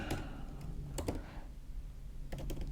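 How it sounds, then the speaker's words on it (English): Keys tapping on a computer keyboard as a domain name is typed, a few short bursts of quick clicks with pauses between them, close and fairly quiet. "So what I'm going to do is just type in genminster"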